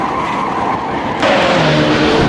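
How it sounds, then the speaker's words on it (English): Car burning its tires on a turbo run, a loud, sustained screech of tire squeal over a roaring engine, the tone jumping in pitch partway through and continuing unbroken to the end. "Burn them fucking tires."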